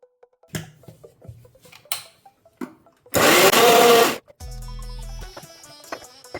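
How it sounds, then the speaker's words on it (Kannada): A kitchen mixer grinder whirs loudly for about a second, grinding masala for akki rotti, after scattered clinks and knocks of handling the jar, then a tonal hum follows. "ಈಗ ಇದನ್ನು ಮಿಕ್ಸಿ ಜಾರಿಗೆ ಹಾಕ್ಕೊಳ್ಳೋಣ."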